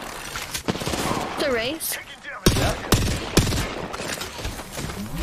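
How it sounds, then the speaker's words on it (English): Automatic weapon fire in the video game Apex Legends crackles in rapid bursts with a few sharp louder shots, mixed under overlapping players' voices calling out during a squad match. "Taking fire."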